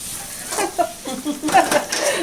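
Onions, green chillies and curry leaves frying in a little oil sizzle and crackle while being stirred, with scraping and small bursts, close up under faint background voices.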